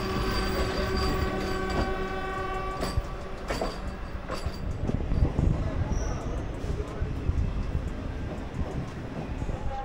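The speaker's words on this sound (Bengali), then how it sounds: "দেখো ফার্স্ট টাইম কিন্তু লোকাল ট্রেনে যাচ্ছি" A Sealdah-division local train bound for Digha runs along with a loud, continuous rumble, rattling wheels, metallic squeals and a horn, heard from inside the carriage while people talk.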